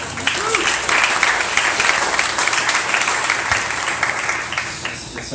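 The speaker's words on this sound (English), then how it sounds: "Can we just like clap for everybody?" Audience claps for the readers at a reading event, sustained and fairly loud clapping from a crowd at close range for several seconds, with some voices mixed in.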